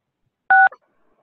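A single short burst of dual-tone phone keypad DTMF beeps, entered as star-six to unmute on a conference call, sounds clearly and alone, followed by a tiny faint blip and then silence.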